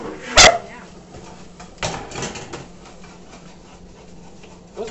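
A dog gives one sharp, loud bark near the start, followed by a softer yelp or whimper and faint rustling in a home, with a brief noise at the end.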